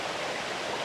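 Water rushes from the Algar waterfalls in the mountains of Spain, a dense, even roar that fills the whole moment without any break.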